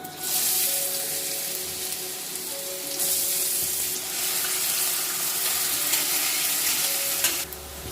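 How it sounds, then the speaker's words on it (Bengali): Cumin seeds and finely chopped carrot fry in hot oil for sabudana khichdi, giving a steady, loud, continuous sizzle with faint stirring, heard alone without voices throughout. "তেলটা গরম হয়ে গেছে পনেরো দিয়ে দিচ্ছি সাদা জিরে দিয়ে দিচ্ছি গাজর কুচি"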